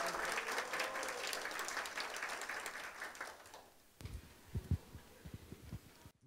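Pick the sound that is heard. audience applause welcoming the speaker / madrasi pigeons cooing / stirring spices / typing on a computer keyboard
audience applause welcoming the speaker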